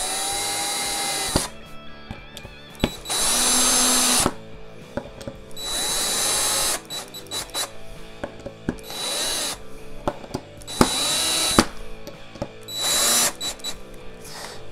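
A power drill drives screws into a guitar's bolt-on neck plate in repeated short whining bursts, each a second or two long with brief pauses between, close and loud with no talk.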